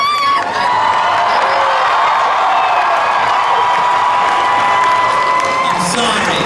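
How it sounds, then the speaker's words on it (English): A large crowd at a Marvel panel at ACE Comic Con 2019 cheers and whoops loudly in one sustained roar, with shouts and some clapping, fading near the end. "I need you to cheer really, really loud."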